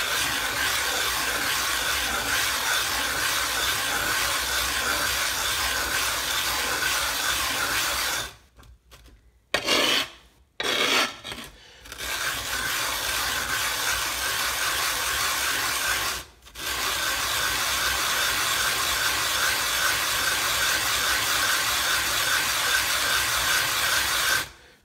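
Washita sharpening stone being flattened with granite powder, a steady gritty rubbing and scraping that runs continuously and fairly loud, broken by a few short pauses near the middle before resuming.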